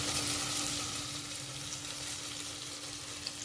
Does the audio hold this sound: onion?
yes